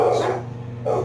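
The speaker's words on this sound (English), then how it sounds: "somebody came to the door and the dogs went crazy" A couple of quick, close barks from dogs reacting to someone at the door, two short loud bursts separated by a brief pause.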